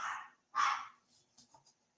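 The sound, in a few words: dog barking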